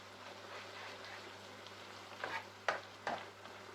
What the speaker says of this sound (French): Et vous mélangez. Bien comme il faut.